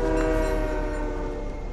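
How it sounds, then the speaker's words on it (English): In the Fortnite video game, a train rumbles past with a loud, sustained horn blast, steady and close throughout, with no voices over it. "and the thunder train passes by."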